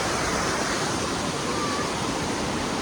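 A waterfall at Anguthi Sunai roars as a steady, dense rush of falling water, loud and close, with no breaks or voices.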